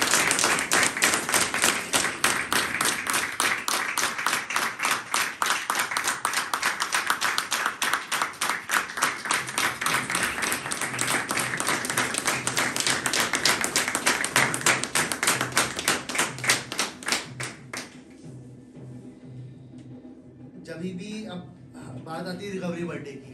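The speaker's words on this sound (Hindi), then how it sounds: "पहले सोब्राइटी रिकवरी बर्थडे के लिए रोहित के लिए जोरदार तालियां।" An audience at a sobriety recovery birthday gathering in a Dehradun rehab centre claps loudly and steadily for most of the stretch before the applause fades out and a voice begins speaking.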